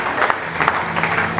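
A church congregation at a Sunday service applauds in a steady wash of clapping, with faint crowd murmur mixed in, across a short burst.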